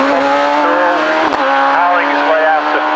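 Hillclimb race car powering out of Farmhouse bend at Harewood, the engine note loud and close, climbing in pitch through a gear change with a sharp crack midway, and a commentator speaking over it.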